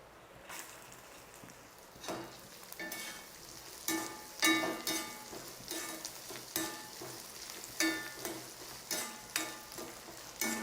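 Grated coconut frying in ghee in a pan, stirred with repeated scraping strokes in an irregular rhythm, a soft sizzle underneath, close and moderately loud with no talking.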